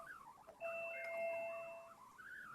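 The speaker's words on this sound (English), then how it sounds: "Your doorbell." A single two-tone doorbell chime rings out fairly softly, sustained for over a second before fading, in an otherwise quiet room.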